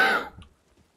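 A single short, close cough from a tired man, sharp at first and then trailing off into quiet.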